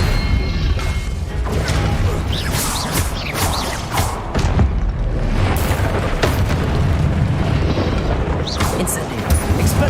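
Confringo explosion spells in the Hogwarts Legacy video game: repeated booming blasts and crashing impacts over a continuous noisy battle rumble, loud and close, with a voice heard amid the chaos.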